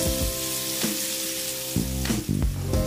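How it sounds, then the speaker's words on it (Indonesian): Dried small shrimp (udang rebon) frying in hot oil in a pan, giving a steady loud sizzle with occasional stirring scrapes and bursts of crackle throughout. "Aduk-aduk, kemudian goreng udang rebon sampai matang dan kering."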